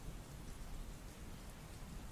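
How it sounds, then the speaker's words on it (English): Steady rain pours during a storm, heard up close as a dense, even wash of falling drops with no voices. "I appear to have gotten caught in the rain while doing so."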